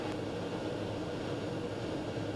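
A propeller airplane's engine drones steadily in a loud, continuous rumble heard from inside the cabin, with no break or change in pitch, as it starts its takeoff roll down the runway.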